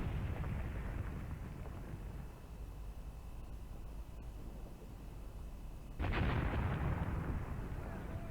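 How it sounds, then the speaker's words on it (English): Mortars firing in the Graviteam Tactics war game, a steady rumbling barrage of distant booms with a louder blast near the end, no talking. "And my mortars are shooting."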